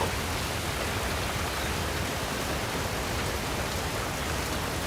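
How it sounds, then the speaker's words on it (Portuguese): Sudden heavy rain in a film trailer, a loud, steady, broadband hiss that stays even and unbroken throughout with no voices. "A chuva."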